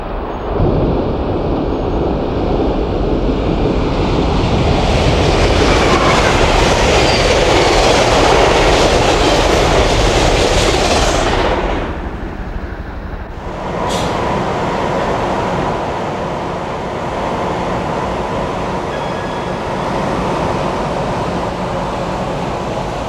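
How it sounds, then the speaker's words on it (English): Amtrak trains roar loudly across the long Bush River trestle south of Aberdeen, a broad rushing rumble of wheels and cars that drops away briefly near the middle before a second steady passage continues. "Amtrak trains roar across the long trestle that crosses the Bush River south of Aberdeen"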